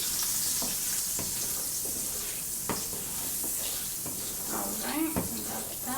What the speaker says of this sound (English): Make sure it's on a low medium heat, right? Okay, here's a good amount of butter.